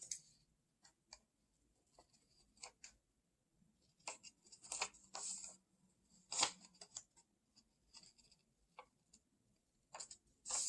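Scissors snip through a paper image for a craft project in short, irregular bursts of crisp cutting and clicking, close and quiet, with silent gaps between cuts.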